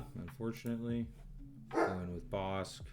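A pet dog barks a few times indoors under steady conversational talk during a card game, the barks mixed in with the voices.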